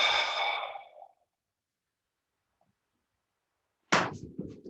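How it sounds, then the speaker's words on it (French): A single breathy exhale during a meridian stretching exercise, a soft airy release lasting about a second before silence, then a short burst of another sound near the end. "Expire."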